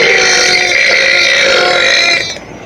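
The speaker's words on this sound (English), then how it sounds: "I'm going to try to aim for big burps." A big, loud, drawn-out burp rumbles steadily for over two seconds up close, then tapers off at the end, with no one talking.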